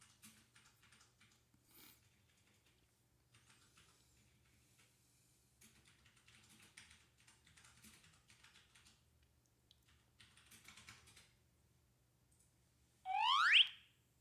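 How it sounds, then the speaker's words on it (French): Notification beep from a delivery driver app signalling a received message: a single short rising electronic tone, loud and alone, sounding after quiet tapping on a device. "un bip sonore vient de vous signaler que vous avez reçu un message"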